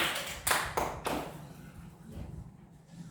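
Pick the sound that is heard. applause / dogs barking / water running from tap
applause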